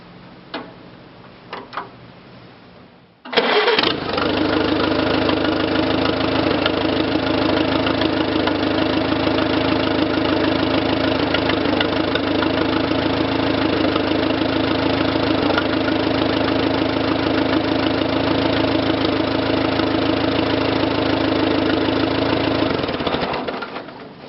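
A 1941 Farmall BN tractor engine cranks over after a few quiet seconds, catches and settles into a steady, loud, close idle with a ticking, knocking rhythm that runs until it cuts off at the end.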